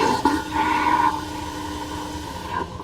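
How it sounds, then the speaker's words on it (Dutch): A macerator toilet in a large MAN TGA 6x6 off-road camper truck flushes with a loud, rushing gush of water over a steady pump hum, lasting nearly three seconds before tailing off. "En naar beneden, dan wordt het toilet doorgetrokken."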